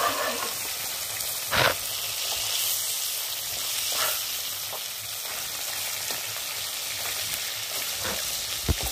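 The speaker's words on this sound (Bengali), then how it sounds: "মাছগুলো কিন্তু খুব সুন্দর করে ভেজে নিচ্ছি" Fish pieces fry in a pan for a fish curry, a continuous moderate sizzle with a brief louder spatter near the start and a few faint clinks, close with no speech.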